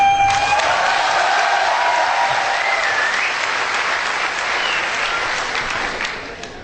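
Steady applause from an audience at a motivational talk, loud and continuous throughout, with faint crowd voices mixed in and tapering slightly at the end.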